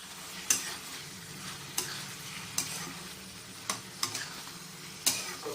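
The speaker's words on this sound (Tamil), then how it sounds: "ப்ரான் ஆட் பண்ணிவிட்டு நல்லா சாட் பண்ணி" Prawns sizzle and fry in a tomato masala for a prawn thokku, with a spoon scraping and stirring through the pan in sharp, irregular strokes over a steady close hiss; no voices.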